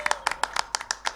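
At a televised Indonesian talk show, about eight sharp, close hand claps land in a quick, even rhythm, with quiet gaps between them.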